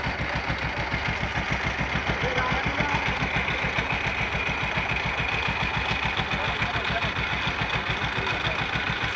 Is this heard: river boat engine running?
yes